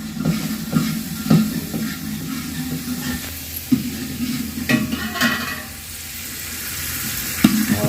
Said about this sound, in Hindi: प्याज का तड़का लग रहा है